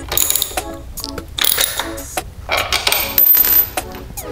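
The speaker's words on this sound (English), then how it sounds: "We're gonna remove the bottom rear set bolt and loosen the top rear set bolt." A ratchet clicks and clanks up close while removing the rear set bolt on a 2020 Yamaha MT09, with short bursts of metallic ticking and a few knocks of the tool against metal, no talking.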